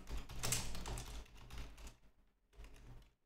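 Rapid keystrokes on a computer keyboard form a dense, close clatter for about two seconds, then stop briefly before a short second burst of typing.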